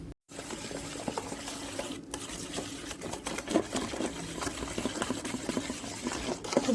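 Rice ground with green chili, turmeric, chili powder and salt being beaten into a batter in a bowl, a steady rapid patter of whisking strokes, close and busy, after a brief silent start.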